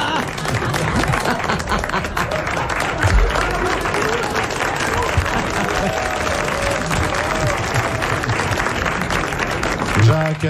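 A studio audience at a 1980 French television show bursts into sustained applause, a dense roar of clapping that carries on steadily for about ten seconds with low voices mixed in.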